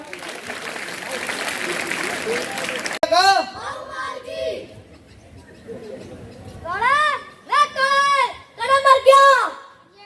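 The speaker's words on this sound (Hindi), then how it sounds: "ये छोटे छोटे बच्चे बहुत शानदार, जोरदार तालियां" Applause from a school audience for a children's performance at an Independence Day program fills the first few seconds as a dense wash of clapping, then gives way to amplified voices and music.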